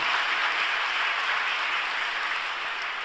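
A church congregation at an overnight Friday worship service claps in praise, an even, continuous wash of applause at moderate distance, steady throughout and easing slightly at the close.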